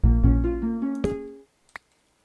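Video game note blocks in a Minecraft-style build play a short tune, a few plucked tones stepping in pitch over low bass notes, followed by a couple of brief clicks and then quiet.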